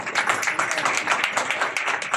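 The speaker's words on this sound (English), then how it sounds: "You can clap." An audience at a hospital launch event claps steadily, a dense, moderately loud patter of many hands that holds without a break.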